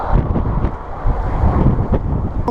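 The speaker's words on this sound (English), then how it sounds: "Pretty bloody windy in Papignon." Strong gusty wind in the Pyrenees mountains roars and buffets the microphone in a steady, heavy rumble, with no other clear sounds.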